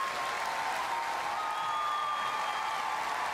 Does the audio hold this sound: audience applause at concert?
yes